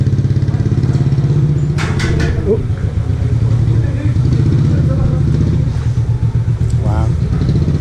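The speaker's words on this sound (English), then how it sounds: "They use a lot of donkeys around the Souks to move things around, as well as obviously motorbikes" Motorbikes moving through the narrow market lanes of the Marrakech souks: a loud, close engine drone with a steady low rumble, plus a brief exclamation and background bustle.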